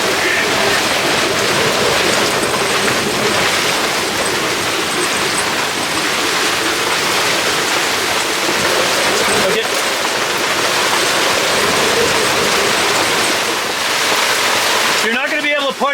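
Strong storm wind roaring on Lake Ontario around a sailboat pinned against a cement wall, a loud, constant wash of gusting wind and water noise that fills the whole clip, with voices partly buried underneath.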